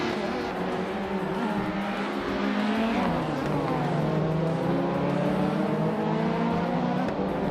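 Race cars, among them a 1993 Peugeot 405, scream past with rising and falling engine notes and shifting revs, loud and continuous, with faint tire noise over a busy track.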